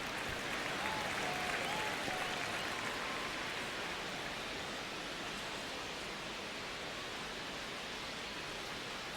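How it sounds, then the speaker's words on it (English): Simulated baseball crowd at Dodger Stadium in an MLB video game, a steady wash of distant crowd murmur and noise that holds evenly throughout without any clear voices. "crowd getting settled here at Dodger Stadium"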